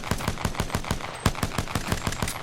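A P2020 light-ammo pistol in Apex Legends fires rapid, evenly spaced shots, about fifteen close, loud cracks in a quick steady rhythm with no pause or talking.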